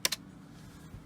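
A couple of quick keystrokes on a computer keyboard, two close sharp clicks at the start followed by quiet room tone, no speech.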